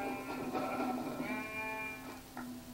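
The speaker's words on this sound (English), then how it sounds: "Oh, there's a sheep right here, guys." A sheep in the Minecraft video game bleats, one long wavering tonal call followed by a shorter second bleat, clear and close with no talking over it.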